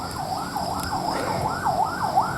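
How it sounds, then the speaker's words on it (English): An ambulance siren wails in a steady, repeating up-and-down sweep as it travels along a highway, moderately loud over a low rumble of road noise, with no talking. "an ambulance going up the highway"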